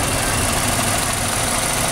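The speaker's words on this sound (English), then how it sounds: "it has a 2-liter four-cylinder engine. It's currently running, so you can hear how well it runs." A 2007 Hyundai Elantra's 2-liter four-cylinder engine idles under an open hood, a loud, steady, close-up hum with a faint even knock and no speech.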